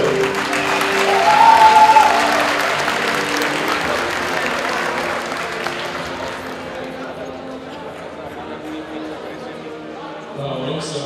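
Sustained applause from a crowd at a local stage of the 2013 Robochallenge robotics competition, loudest in the first few seconds and then gradually thinning out, with some talk and cheering mixed in.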